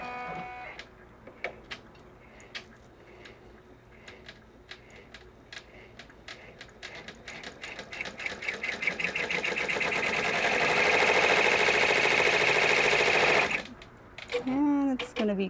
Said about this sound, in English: Now we're on the second part of sewing.